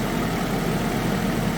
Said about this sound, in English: The whole front end's rattling.